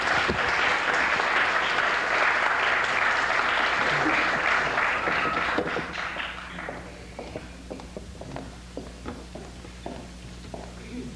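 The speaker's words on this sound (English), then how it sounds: "Thank you for the applause." An audience at a survivors' panel event applauds warmly for about six seconds. The clapping then fades into a few scattered claps and footsteps as someone walks up to speak.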